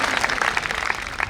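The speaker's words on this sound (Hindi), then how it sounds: "मैं चाहता हूं सारे लोग एक बार दोनों हाथ उठाकर ताली के साथ अभिनंदन करें इनके प्रयास के लिए" Audience at a Hindi poetry event breaking into applause, a dense patter of many hands clapping at moderate distance, steady for a short burst.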